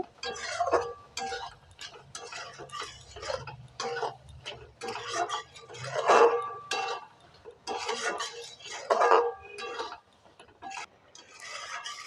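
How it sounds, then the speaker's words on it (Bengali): Sugar being stirred in a pan for a sweet-sour grape chutney, a spoon scraping and tapping against the metal in uneven bursts, close and fairly quiet with no talk. "নাড়াচাড়া করে নেব চিনিটা জল ছাড়বে"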